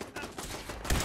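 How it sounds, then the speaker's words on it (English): A Fallout 4 turret firing a quick, faint burst of rapid gunshots, a short rattling volley that swells at the end. "Shit, that's a turret."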